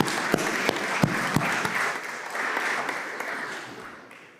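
At a high-level ministerial session on climate mobility, delegates applaud the interpreters with a few sharp individual claps first, then a moderate, steady round of clapping that fades toward the end.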